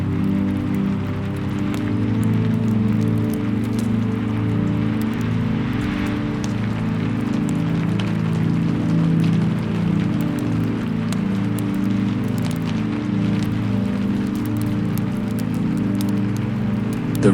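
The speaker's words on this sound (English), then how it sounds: "The rain is slowing now." Steady rain falls on surfaces in a continuous, even hiss with a constant low rumble underneath, unbroken and with no voices.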